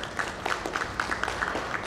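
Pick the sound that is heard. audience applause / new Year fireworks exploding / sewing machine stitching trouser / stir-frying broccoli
audience applause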